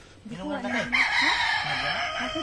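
A rooster crows once in a long rising-and-falling call, close and fairly loud, against a background of low murmuring and farmyard noise.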